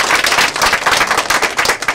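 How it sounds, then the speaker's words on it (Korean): Loud, dense applause fills the room at a party anniversary ceremony as a member of parliament arrives, steady clapping from a large crowd with no gaps throughout. "큰 박수로 맞이해 주십시오."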